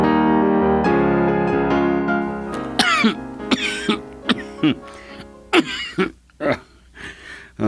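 A person coughs repeatedly in harsh, separate bursts after a sustained musical tone fades, loud and close.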